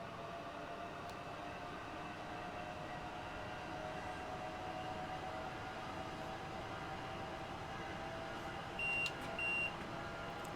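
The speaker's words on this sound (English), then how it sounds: "Another train about to pass us." In a train simulator game, another train rushes past a Southern Class 465 electric unit running from Brighton to London Victoria, giving a faint, steady rail rumble and hum with a couple of short beeps near the end.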